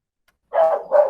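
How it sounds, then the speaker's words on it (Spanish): A pet dog at home lets out two close, loud barks in quick succession after a moment of silence. "voy a ver si puedo detener el escándalo de mi perro"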